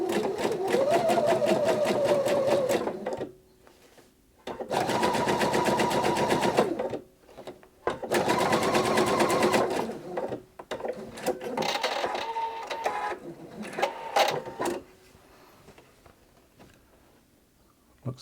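Pfaff Quilt Expression 720 sewing machine stitching at its longest stitch length, a close rapid mechanical chatter in three long runs separated by pauses, then lighter intermittent clicks and whirs toward the end.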